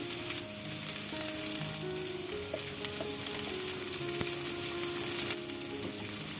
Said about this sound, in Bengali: থেকে 3 মিনিট ফ্রাই করার পর এখানে আমি দিয়ে দিচ্ছি রসুন কুচি